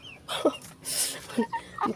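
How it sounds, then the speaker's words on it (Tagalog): Several short clucks and crowing calls from roosters, close by, broken up with brief pauses between them. "At mga tandang ito."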